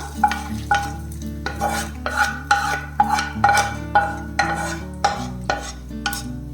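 Fried lentils being stirred into curd rice with a spoon against a metal vessel, a steady run of close scraping strokes over quiet background music.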